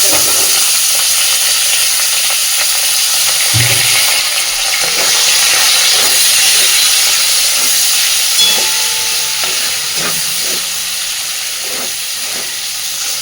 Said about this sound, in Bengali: এবার দিয়ে দিচ্ছি চিংড়ি মাছ।